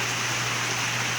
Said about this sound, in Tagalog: Walang tigil ang ulan dito.